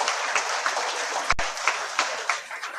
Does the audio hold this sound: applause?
yes